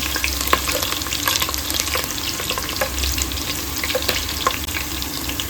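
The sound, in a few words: onion frying with mustard seeds in a pan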